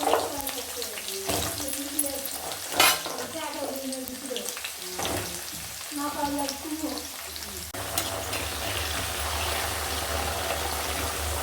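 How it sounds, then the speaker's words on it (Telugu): Brinjals fry in hot oil in a pan on a lit stove, a steady sizzle with soft stirring scrapes, louder near the start and settling into an even hiss, with a voice now and then over it. "వంకాయలు బాగా ఫ్రై చేసుకో"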